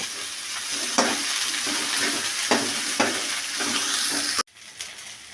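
Okra frying in oil sizzles steadily and close by, with several brief stirring scrapes before the sound drops off sharply near the end.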